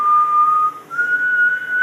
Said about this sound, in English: Okay, so try to whistle.